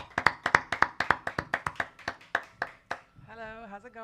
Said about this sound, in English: Can we get a live hand clap Yeah, absolutely. for Emily Garcia?